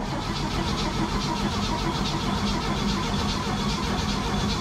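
A 1967 Chevy C10 Stepside barn-find pickup fires up with the choke on, its engine catching and running in a loud, rough, steady rumble close to the microphone.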